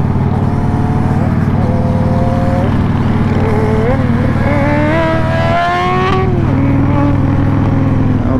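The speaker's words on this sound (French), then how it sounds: "Alors, petite accélération au passage, gentille." A Kawasaki Z750 motorcycle runs loud and close, its engine note climbing in rising whines as it accelerates past, with someone talking over the engine throughout.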